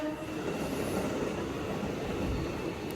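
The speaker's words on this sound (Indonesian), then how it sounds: "ini nunggu KRL lewat dulu baru kita bisa" A KRL commuter train passes a crossing as a continuous low rumble and rolling rail noise, fairly close and steady, with no talk.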